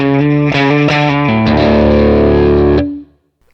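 Distorted electric guitar solo tone played through a Quad Cortex with reverb switched off, a run of loud sustained notes with clear pitch changes that ring on together, then cut off sharply near the end and leave silence.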